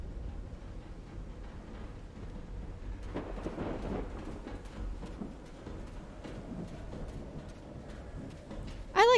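Thunderstorm with rain in the video game Call of the Sea: soft steady rainfall with a low rolling rumble of thunder building midway, ending with a sharp tonal sound at the very end.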